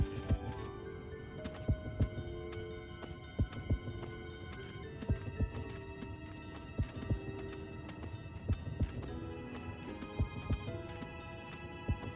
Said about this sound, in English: Oh, the heartbeat. That's great.